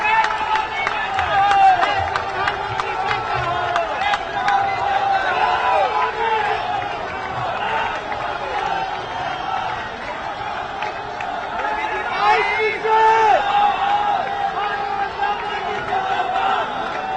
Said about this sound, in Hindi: नरेंद्र भाई मोदी की एक ताली बजा के दोनों हाथ उठा के उनका स्वागत करें